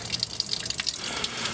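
Water running from a garden hose while readying a livestock waterer for winter, a steady close splashing rush with drip-like patter, holding on without a clear shutoff.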